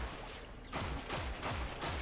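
Vaykor Marelok pistol firing in the sci-fi shooter Warframe: four heavy, booming shots in a steady rhythm after a short quiet gap, each with a broad crackling blast and brief tail, fairly faint in the mix.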